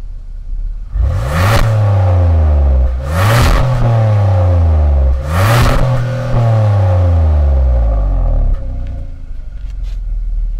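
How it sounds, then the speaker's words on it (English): A 2019 Kia Sorento SUV, recorded close at the rear exhaust, revs hard three times, each climbing to a loud roar and dropping back to a deep idle rumble, before settling into a steady idle. "let's go to the back and get a big old SUV exhaust clip"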